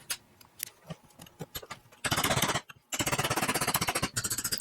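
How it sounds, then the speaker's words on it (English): A bearing puller tearing the guts out of a grease-filled suspension bushing on a Nissan G35 drift build, heard as scattered clicks and knocks followed by loud, rapid rattling bursts of mechanical hammering close by. "I really did start making progress once I used the bearing puller to rip the guts out of the bushing."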